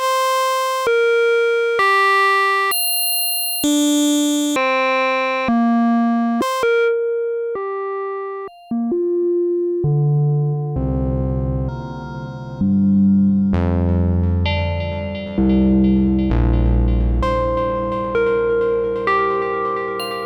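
Synthesizer tones from a Digitakt step through a random melody of sustained notes, first clean and bright, then, with FM oscillators, thicker with deep bass and buzzy metallic overtones.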